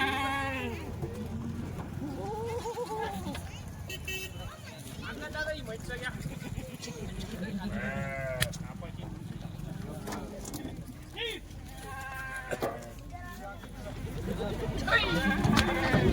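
Kathiawadi sheep just unloaded from a truck bleat repeatedly, several animals calling over and across one another at close range, while someone talks over the flock and livestock shuffle in the background.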